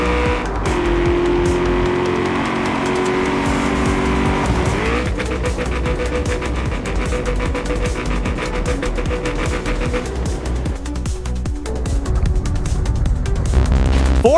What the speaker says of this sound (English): Ford Mustang made a very good jump, but could not finish.